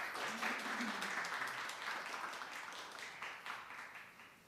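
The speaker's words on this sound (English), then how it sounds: "with a round of applause" An audience at a business forum conference bursts into sustained applause, many hands clapping steadily and evenly, then gradually fading over a few seconds.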